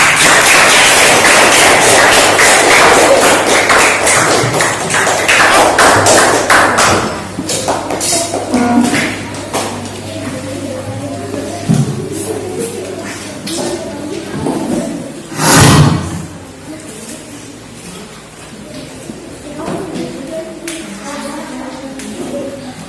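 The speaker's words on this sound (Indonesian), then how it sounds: "tepuk tangan untuk kelompok kinestetik" Classroom applause for a kinesthetic student group, a loud run of dense clapping at the start that thins out into scattered claps and taps and then stops.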